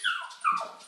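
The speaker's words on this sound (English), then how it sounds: "That little bark in the background" A small dog named Iggy lets out two quick, high squeaky yips, close and fairly loud, with no one talking over them.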